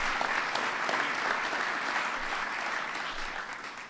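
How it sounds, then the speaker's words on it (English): Audience applause at a White House ceremony honoring the NBA champion Golden State Warriors, steady dense clapping from a crowd held throughout at moderate level, with no voices over it. "Give them a big round of applause."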